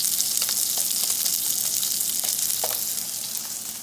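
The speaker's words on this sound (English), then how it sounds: "you're cooking the outside edges, the fat" Loud, close, continuous sizzle of New York strip steak fat edges searing in a frying pan, with crackling pops scattered through it and a slight fade toward the end.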